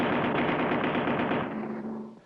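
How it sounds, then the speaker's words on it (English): Cartoon turret gun firing, a rapid continuous machine-gun rattle of evenly spaced shots lasting about two seconds before cutting off, loud and alone with no voices. "Hey, Willie, get ready with that turret gun"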